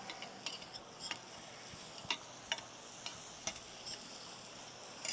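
Ginger garlic paste sautés in a pan with a soft, continuous sizzle. A utensil scrapes and taps against the metal every so often. The sound is close but quiet.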